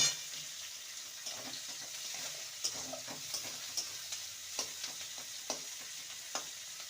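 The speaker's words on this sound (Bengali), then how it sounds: "পেঁয়াজটাকে হালকা ভেজে নেব" Onion lightly frying in a pan with chopped green chili, a soft steady sizzle with a scatter of light spatula taps and stirring scrapes at a modest distance.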